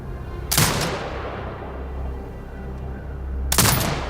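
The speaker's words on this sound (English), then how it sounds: "Exit binocular mode and command the turret to fire." Two heavy turret shots in Sniper Ghost Warrior Contracts 2, each a sharp, loud blast with a decaying tail, spaced about three seconds apart over a low ambient rumble.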